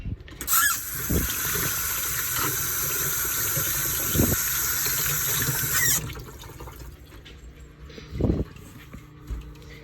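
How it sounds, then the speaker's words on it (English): Hands being washed under a running kitchen tap, a steady bright gush of water for several seconds that then stops, followed by a few soft knocks and clatters nearby. "Let me wash my hand."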